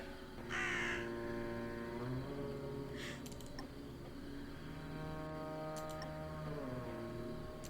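A crow in the video game Drake Hollow caws a few times, harsh calls over a steady droning game soundtrack with a faint tick, and no talking.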